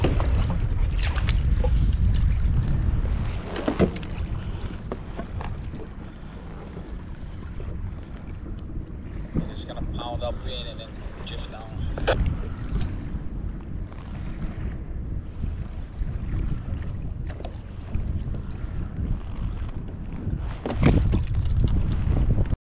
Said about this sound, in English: Pretty windy. It's definitely over 15.